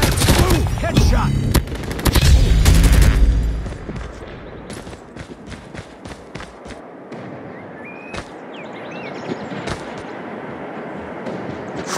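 Video game gunfire: a loud, dense volley of automatic shots and booms up front, then scattered single cracks and short bursts at lower level over a steady background wash.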